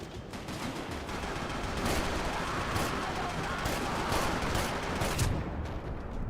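Rapid gunfire in a shooter video game, a dense run of sharp shots crackling continuously at moderate distance, layered with busy in-game noise throughout.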